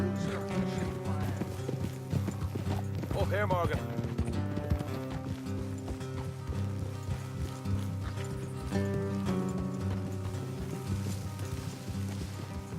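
Horse hooves clip-clop steadily in Red Dead Redemption 2 as riders travel off-road, the footfalls running under dense background music while someone speaks briefly.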